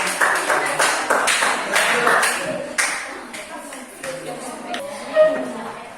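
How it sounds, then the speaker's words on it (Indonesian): A classroom claps for a group's finished presentation, a short burst of scattered, uneven hand claps close by that thins out over several seconds, with a teacher's voice speaking alongside. "Terima kasih untuk kelompok 2. Kita tepukan."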